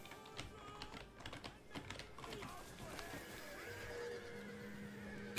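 Horses neigh and whinny amid the clatter of a Rome II: Total War video game battle, mixed with clicking keys and dense battle noise, with a steady tone near the end.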